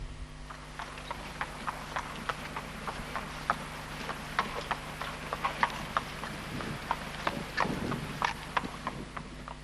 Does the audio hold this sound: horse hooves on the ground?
yes